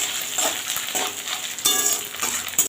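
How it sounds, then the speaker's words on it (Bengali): Grated coconut and peanuts frying in a spice tempering, a continuous crackling sizzle broken by short bursts of stirring and scraping against the pan. "ফোড়নটার সাথে নারকেল বাদাম দুটোই আমার ভাজা ভাজা হয়ে যাবে"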